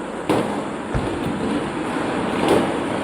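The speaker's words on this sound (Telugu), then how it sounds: "పిల్లలు టపాసులు బాగా కాలుస్తున్నారనమాట అందుకే ఆ శబ్దాలు కూడా వస్తున్నాయండి" Sharp firecracker bangs, set off by children before dawn during the Karthika month, burst a few times at a moderate distance, spaced irregularly over a continuous outdoor hum.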